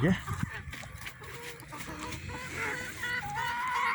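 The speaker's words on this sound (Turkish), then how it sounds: "Tavuklara mama veriyor Çınar" Chickens cluck and squawk close by in a busy, overlapping flock, with a person speaking softly beneath the noise.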